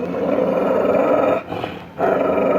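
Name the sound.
dog growling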